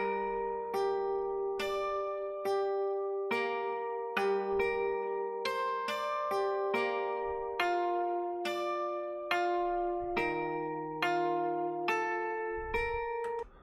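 GarageBand's Star Power Guitar Plucks sample loop: bright plucked guitar chords repeat in a steady rhythm, each note ringing briefly before the next pluck, a clean close instrumental loop with no voices.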